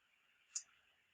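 A single mouse click, crisp and faint, close up against a quiet room hiss.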